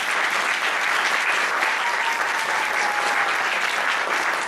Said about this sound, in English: How about a round of applause for everyone